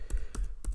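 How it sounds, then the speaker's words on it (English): Three quick, soft keystrokes on a computer keyboard while a command is typed in a terminal, close and quiet. "So you have to just type Rustc and just file name"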